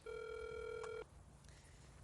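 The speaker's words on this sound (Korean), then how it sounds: "전화 받아야 돼" During a prank call, a telephone line plays a single steady electronic ring tone for about a second, then cuts off, leaving faint background hiss.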